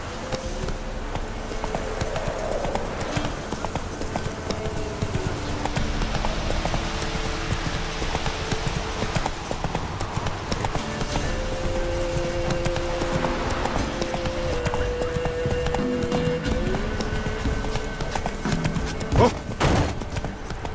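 Horse hooves galloping in the video game The Witcher 3, a steady, rapid clip-clop running throughout at moderate loudness, with faint music and ambience underneath.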